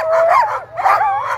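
Sled dogs at the Fur Rondy Open World Championship in Alaska howl and bark in a close, loud chorus of rising, wavering cries, with a short dip before the team starts up again.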